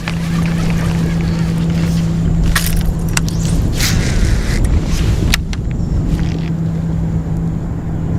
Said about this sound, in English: Actually, that might have been a boat.